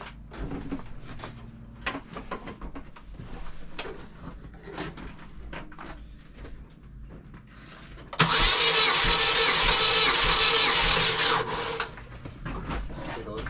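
A car engine cranks over on the starter during a compression test, a loud, rough, steady churn lasting about three seconds. Light clanks and handling noises come before it, and a lower rumble continues after.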